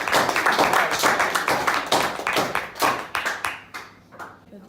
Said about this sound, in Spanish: un aplauso a Mario.